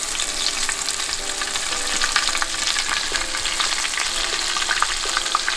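Oxtail pieces sear in a hot pan, producing a bright, steady hiss and spitting crackle close by, with a few light scrapes and no talking.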